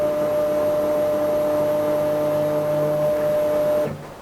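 A CNC mini mill drives its axes back to zero, its stepper motors letting out a steady, loud, tonal whine that holds for several seconds and then winds down as the motion stops; no one speaks.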